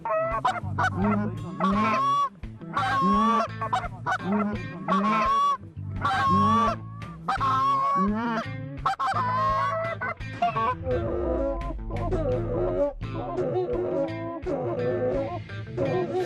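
A flock of geese honks continuously and loudly overhead during a goose hunt, many overlapping calls, with a few low rumbling thumps later.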